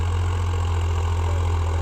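A tractor engine idling nearby, a steady low throbbing rumble that holds constant throughout without any talking.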